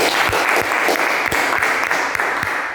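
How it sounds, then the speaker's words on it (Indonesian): Schoolchildren in an automotive class clap together for a group's graded answer, a dense steady patter of hands with a few sharper individual claps standing out, fairly close and continuous throughout. "Silakan anak-anak tepuk tangan dulu."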